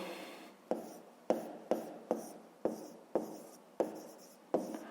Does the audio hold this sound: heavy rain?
no